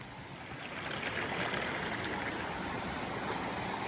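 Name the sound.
stream of water flowing across a Camino de Santiago trail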